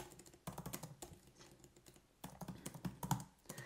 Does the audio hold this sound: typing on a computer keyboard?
yes